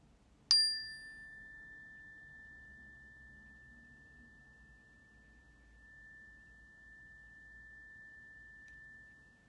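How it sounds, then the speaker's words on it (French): A single meditation bell is struck once, a clear bright ping whose pure tone rings on and slowly fades over several seconds in a quiet room. "Je vais sonner la cloche et écoutez"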